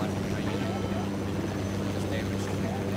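A steady video game helicopter rotor drone hums beneath a person talking, continuous and moderately loud throughout.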